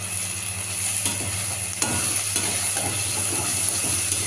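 A spice paste with turmeric and sugar for chilli chicken is sautéed in a pan, giving a continuous close sizzle with a few stirring scrapes over a steady background hum.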